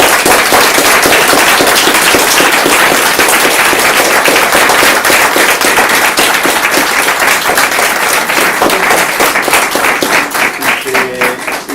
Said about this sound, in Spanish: vamos a dar un aplauso moi fuerte